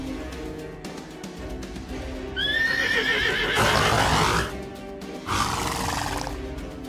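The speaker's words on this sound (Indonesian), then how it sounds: "Suara kuda lagi." A horse whinnies loudly and close, a long, shrill, wavering neigh followed by a second, shorter burst after a brief pause, over a low background hum.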